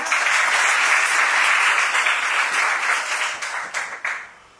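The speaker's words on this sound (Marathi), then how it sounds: "ओटीएच्या या सगळ्या लेडी कैडेट्ससाठी आपण जोरदार टाळ्या देऊया" Loud, sustained applause from an audience honouring lady cadets trained at the Officers Training Academy, Chennai, dense clapping throughout that thins and tapers toward the end.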